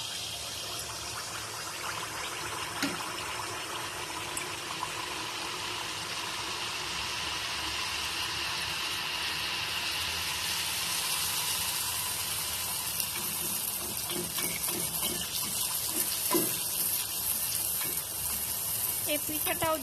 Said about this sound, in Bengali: এভাবে এক এক করে আমি সবগুলো পিঠা ভেজে নিব।